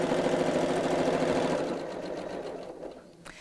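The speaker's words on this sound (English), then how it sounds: "So I'll move the fabric across and carry on sewing." A sewing machine stitches fabric for a double zip pocket bag, a fast steady mechanical whirr for about a second and a half, then slowing and fading to quiet with a small click at the end.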